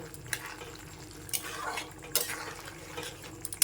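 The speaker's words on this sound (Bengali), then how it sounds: "এবার আমি একটু নাড়িয়ে দেব" A spoon stirring prawn curry in a pot, with soft scraping and a few sharp clinks against the metal, close and fairly quiet, over a low bubbling simmer.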